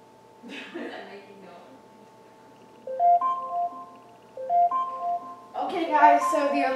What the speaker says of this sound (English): so the alarm has gone off